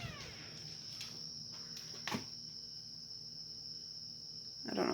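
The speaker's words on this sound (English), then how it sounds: "I hear one of those cicadas, is that what they're called, that make those really loud noises outside" A cicada trapped in a basement behind a shut door gives a faint, steady, high buzzing drone that runs through the whole stretch. It sounds distant and muffled, with a louder rustle near the end.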